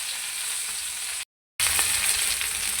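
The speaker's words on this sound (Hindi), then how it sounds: "सिर्फ 1 से 2 मिनट आपने इसको फ्राई करना है" Chicken tikka sizzles and fries steadily on a hot tawa, a loud, close, continuous hiss that cuts out briefly and then resumes.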